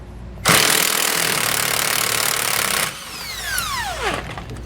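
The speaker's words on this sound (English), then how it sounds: "I'm going to use my drill and just a breaker bar to kind of hold this in place." A power drill whirs loudly for a couple of seconds loosening trailer suspension nuts, then cuts off, followed by a descending whine and some metallic rattling as it spins down.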